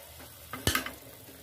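A spoon scrapes and clinks in a pan as fish curry is stirred after tamarind water goes in. There are a few quick knocks over a faint background hiss, and no voice.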